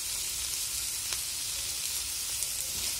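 Chopped garlic fries in a pan for a pork-and-potato dish, giving a soft, even hiss of sizzling that runs unbroken and fairly quiet for a few seconds.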